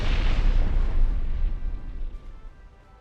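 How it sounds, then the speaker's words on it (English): A torpedo detonates against a warship in the naval video game Ultimate Admiral Dreadnoughts, a loud deep boom that rumbles and slowly fades away. "Oh no, torpedo detonation."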